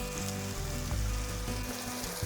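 Ground spices (garam masala, turmeric, Kashmiri red chilli powder) sizzling as they are stir-fried in a pan for masoor dal bharta, a steady crackling hiss with no talk.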